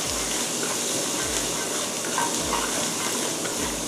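Garlic stir-fries in a hot pan for Thai salted-fish fried rice, giving a steady, dense sizzle with periodic low scraping strokes of the spatula about once a second; no talking.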